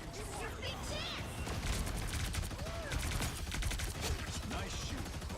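Rapid bursts of gunfire and sci-fi shooting effects in the Marvel Rivals video game crackle densely throughout, mixed with game voices and other action effects at low volume.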